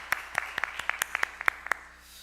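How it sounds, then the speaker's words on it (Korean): A sparse handful of claps from a small congregation in a church during a Sunday morning service, about a dozen separate slaps at an uneven pace, moderately near, fading to quiet at the end. "우리 예배를 받으신 하나님께 영광의 박수를 드리겠습니다"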